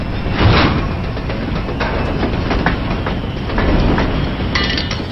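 A train moves along the rails with continuous loud rumbling and rhythmic clickety-clack of wheels over track joints, close and steady throughout with no talking.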